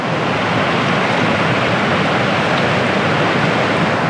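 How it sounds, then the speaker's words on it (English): A Scottish river runs high and fast after a night of heavy rain, giving a loud, steady, broadband rushing roar close by with no let-up and no voices. "The river's flowing really strongly."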